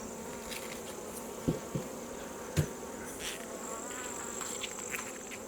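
Honey bees drone steadily in an open hive, a continuous buzzing hum up close with a few soft knocks and taps of frames or tools.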